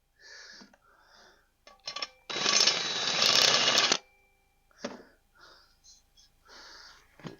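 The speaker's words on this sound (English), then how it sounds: "Got a countersink bit that I've abused over the years" A worn countersink bit smoothing the edges of a hole, one loud, harsh grinding burst lasting under two seconds, surrounded by quieter handling noises and breathy sounds.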